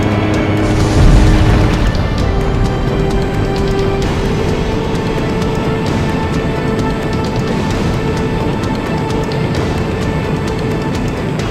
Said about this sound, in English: The shock cannon is preparing to fire again! In 5 seconds! 3, 2, 1. Cannon firing!